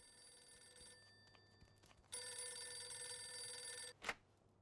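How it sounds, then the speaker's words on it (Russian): A telephone rings in the Mafia II video game, a steady electronic ring sounding through a quiet background, pausing and then starting again louder, followed by a short sharp burst at the end. "Звонок от Джо."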